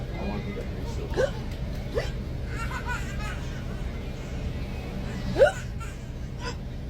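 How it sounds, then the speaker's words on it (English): A person has uncontrollable hiccups while riding a city transit bus, with a few sharp, abrupt hiccups spaced seconds apart over steady bus rumble and nearby chatter. "You got the hiccup."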